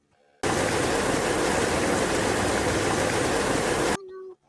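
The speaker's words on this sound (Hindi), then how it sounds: "अचानक से बारिश होने लगती है" Steady rain pours down in an outdoor night scene, a dense, loud hiss that starts abruptly and holds evenly for about three and a half seconds before cutting off.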